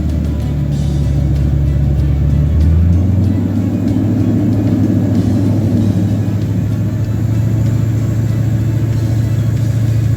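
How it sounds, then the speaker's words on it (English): Duramax diesel truck engine with its check engine light on and little fuel, revving up and settling back, a loud, steady low rumble close by with the pitch rising and falling, no talking. "Rev it up a little bit."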